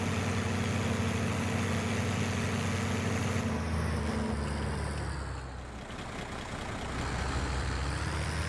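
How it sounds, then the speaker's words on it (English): A Deutz 8006 tractor engine runs in the Farming Simulator 22 game, a steady close diesel drone with strong low harmonics that shifts pitch midway and settles into a lower idle. "The running sound, though, is quite good. That sounds a lot like a Deutz 8006."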